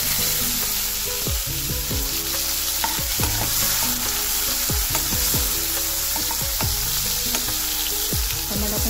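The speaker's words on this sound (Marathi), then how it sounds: "तर टमाटर टाकून घ्यायचं।" Tomatoes frying and sizzling in a hot pan with green chillies while okra bhaji is cooked, with a steady loud sizzle and repeated scraping stirs of a spoon against the pan, with no talking.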